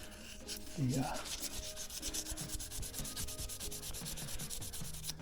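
A sheet of 220 grit sandpaper scuffing a shiny chrome guitar tremolo plate, with quick, rhythmic back-and-forth rubbing strokes that are close, soft and continuous, and no voices.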